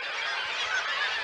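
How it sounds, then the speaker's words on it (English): Marine seabirds call continuously at a breeding colony, a dense, steady chorus of overlapping honking and squealing cries that fills the whole short stretch at a distance. "can actually hear the sound of the birds."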